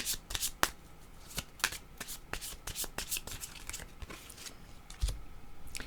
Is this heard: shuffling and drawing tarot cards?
yes